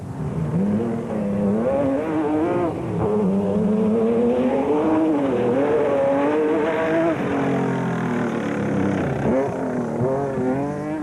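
A Nissan race car at racing speed in a 2005 Carnival City 400 event, a loud continuous engine wail rising and falling in pitch as it works through the gears, sustained and close for the whole stretch.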